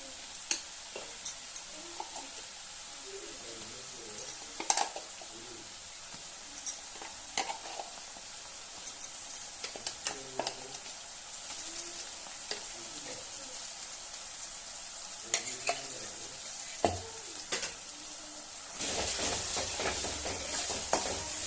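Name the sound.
ground masala paste being stirred and fried in oil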